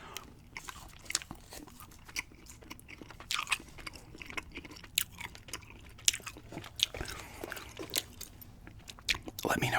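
Airheads gum being chewed close to the mic, with soft wet smacks and crunchy bites in an irregular rhythm, faint murmurs or whispers underneath.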